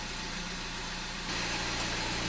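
A Citroën DS3 car engine idles steadily while warming up, with a constant low rumble and broadband noise, growing slightly louder partway through.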